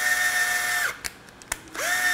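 A weak hand drill runs steadily while reaming a bearing for mold making, stops briefly with a few clicks and knocks, then spins up again, close and fairly loud with no talking.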